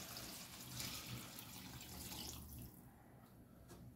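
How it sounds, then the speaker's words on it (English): Tap water pours into a pot of vegetables for cream of celery soup, a steady close splashing stream that thins and softens toward the end. "now, I'm going to add enough water to completely cover them"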